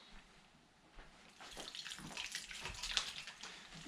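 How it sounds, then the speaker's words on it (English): Cold water runs from a tap in a steady, quiet stream that grows a little louder toward the end, with a faint splash near the finish. "we're gonna add a little bit more water"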